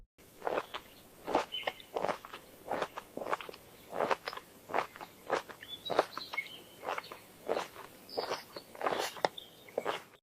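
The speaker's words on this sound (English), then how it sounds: "You can hear the cow chewing, birds singing in the background." An AI-generated cow chews in a steady series of rhythmic crunching bites close up, with faint bird chirps scattered in the background.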